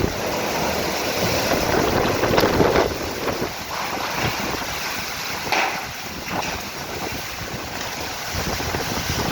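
A storm brings strong gusting wind and rain roaring against a house with loose roof tiles, loud and continuous, with buffeting wind noise on the microphone.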